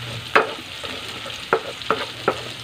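Pork browning in a pan gives a low, steady sizzle, broken by four sharp spatula scrapes and clinks against the pan at uneven intervals. The sounds are close and moderately loud, with no talking.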